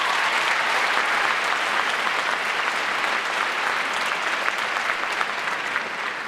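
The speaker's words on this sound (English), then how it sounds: "Give yourselves a round of applause, please." A school ceremony audience breaks into steady, dense applause that fills the room evenly from start to finish, with no voices rising above the clapping.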